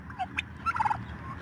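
Turkeys grazing on grass in a farmyard gobble close by, a quick loud burst of bubbling, warbling gobbles with short calls in between, and no talk.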